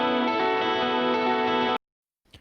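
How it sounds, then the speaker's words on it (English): A short guitar lick with a dense, effects-laden tone sustains steadily for almost two seconds, then cuts off abruptly into silence, followed by a faint brief sound near the end. "I just took a quick part of the main intro guitar lick, which is this."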